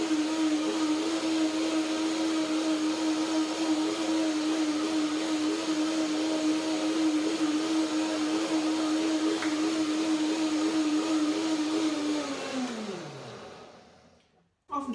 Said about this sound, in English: blend a little bit more. You know, one more blending